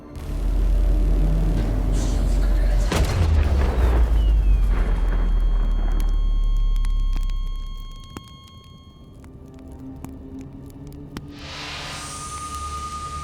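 A ship hit by a missile explodes in a space video game, with a sharp blast inside a loud, deep rumble that rolls on for several seconds. The rumble then drops away to sparse crackles and a rising hiss.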